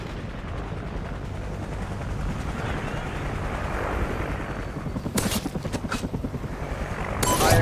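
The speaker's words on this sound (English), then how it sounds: "Friendly chopper inbound." A friendly helicopter arrives in Call of Duty: Ghosts, a low rotor thrum building steadily under a battlefield din, with loud gunfire bursts breaking through near the end.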